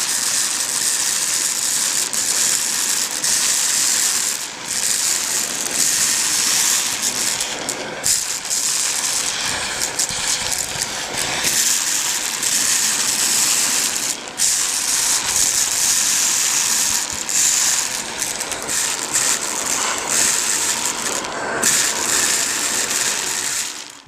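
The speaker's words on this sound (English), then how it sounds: "The translucent blues have been removed by the vacuum." A vacuum cleaner sucks up translucent blue LEGO pieces, giving a loud continuous rushing roar close up, broken by clattering rattles as bricks are pulled through the nozzle, with no talking.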